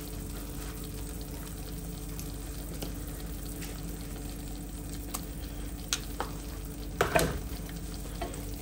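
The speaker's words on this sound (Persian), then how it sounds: "و بعد با هم دیگه مخلوطش میکنیم" A mixture with fried onion is stirred in a pan, with a low steady sizzle underneath and scattered soft scraping clicks, growing busier toward the end, and no voices.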